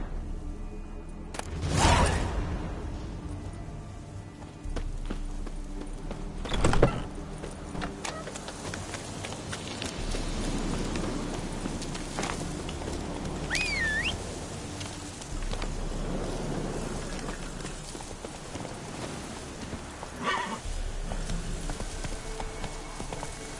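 Hoofbeats of Roach, the horse in The Witcher 3, clip-clopping at a steady rhythm against a low ambient game soundscape, with a couple of louder thumps and brief chimes along the way; no one speaks.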